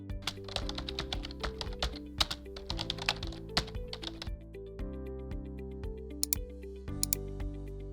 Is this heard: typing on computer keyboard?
yes